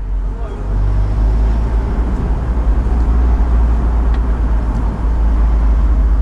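A Fiat Barchetta's engine pulls away from a stop and builds revs into a loud, steady low drone heard from inside the car, with road rumble underneath.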